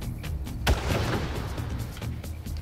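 A single loud sniper rifle shot cracks out in Far Cry, a sharp boom with a rolling tail, set against a busy background of fainter distant shots and ambient noise.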